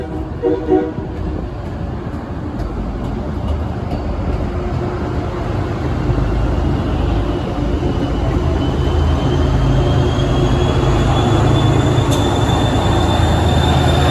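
Stoughton inbound commuter train passing with the cab car leading, a heavy rumble building steadily and staying loud close by, with a brief horn-like tone at the start and a rising high squeal near the end.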